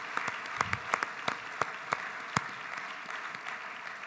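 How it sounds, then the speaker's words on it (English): An audience gives a formal development-policy event warm applause, a few sharp, distinct claps near the front standing out over a softer, steady patter of hands that carries on for several seconds. "can we please give her a big round of applause"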